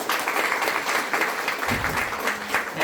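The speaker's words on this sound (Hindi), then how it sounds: "इसके लिए जरा तालियां बजा दीजिए।" Audience clapping at a presentation on food and health, a sustained burst of many hands at moderate level with a faint voice briefly audible underneath.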